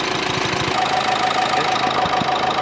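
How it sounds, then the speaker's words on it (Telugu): A 2016 Nissan Terrano idling just after starting, a steady mid-low engine rumble with an even, slightly knocking pulse, close and continuous without any speech. "ఓకే ఇంజిన్ అనేది స్టార్ట్ అయింది"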